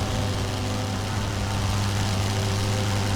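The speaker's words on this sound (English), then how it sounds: "Sounds like a Fokker engine." A Fokker aircraft engine in the World War I flight game Wings Over Flanders Fields drones as a steady, low, rumbling propeller hum, continuous and fairly loud, with no voices over it.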